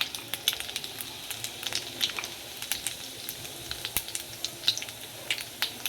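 Cumin seeds dropped into masala frying over a low flame crackle and sizzle steadily, with sharp little pops scattered through a continuous close frying hiss.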